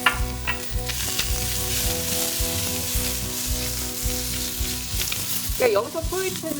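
Sliced zucchini stir-fries in cooking oil in a pan, a loud, continuous sizzle with rhythmic scraping and stirring strokes throughout while someone talks over it.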